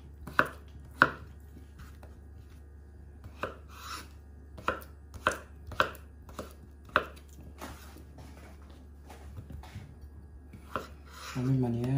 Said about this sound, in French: Et après, on rajoute notre pomme de terre. On va couper de la même manière.